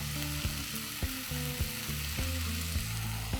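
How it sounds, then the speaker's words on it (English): Chili, cumin and black pepper masala sizzles steadily in a hot pan, a continuous frying hiss with a melodic backing running underneath. "we'll cook it till the rawness of the masala goes away"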